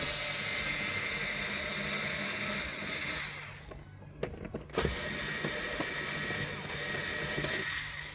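A grab handle being unscrewed from the interior of a BMW X3: a steady background hiss, then a few small clicks and ratcheting ticks near the middle. Quiet and close, with no talking.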